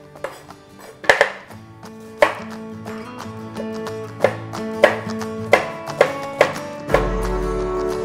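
Knife chopping carrots, celery and onion into small cubes on a board, about a dozen sharp separate knocks at uneven intervals, close and clear, ending in a louder steady rush.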